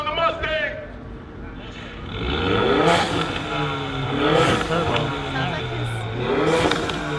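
A Ford Mustang RTR engine in a video game revs repeatedly, its rising and falling tone swelling over several seconds while people talk over it.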